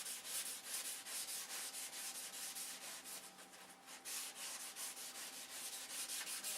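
A thin finish is hand-sanded with 1000 grit sandpaper: steady, rhythmic rubbing strokes in a continuous close-up scratch, with no voices.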